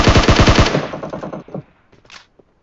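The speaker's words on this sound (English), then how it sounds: "Thought he was shooting at me there." Automatic rifle fire in PUBG Mobile, a rapid burst of about a dozen loud close shots that fades into a trailing echo and a couple of faint clicks.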